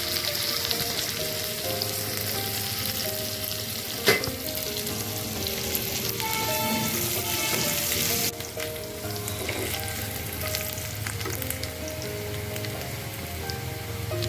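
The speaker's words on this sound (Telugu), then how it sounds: "ఇప్పుడు ఇంకొక కడాయి తీసుకొని దీంట్లో జింజర్ ఆయిల్ వేసుకుంటాం. దాంట్లో జింజర్ గార్లిక్ వేసుకొని కొంచెం ఫ్రై చేసుకుంటాం." Ginger and garlic fry in oil in a kadai, giving a loud, continuous crackling sizzle close by, with a couple of sharper clinks from the pan partway through and no talking.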